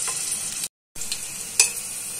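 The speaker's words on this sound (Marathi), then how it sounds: "आणि लसूण टाकते. ठेचलेला लसूण आहे हा." Crushed garlic frying in hot oil in a pan gives a loud, steady sizzle with a short break and a sharp stirring clatter, close up.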